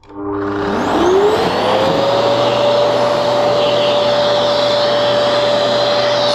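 A Genesis upright cyclonic vacuum cleaner whirs up from a start and settles into a loud, steady high-pitched whine with constant airflow roar, running alone with no talk.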